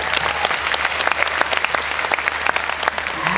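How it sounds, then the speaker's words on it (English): A circus audience applauds, loud, steady clapping from a large crowd with crisp claps on top of a low hum, continuous for the whole few seconds. "Come on, let's give him a big round of applause."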